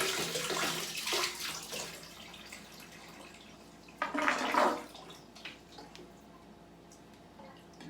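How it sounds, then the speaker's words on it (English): Tap water gushes into a trumpet for cleaning, a short splashing burst in the middle amid softer earlier trickling and faint dripping, close by. "You could just get the water from the tap and put it in the trumpet itself."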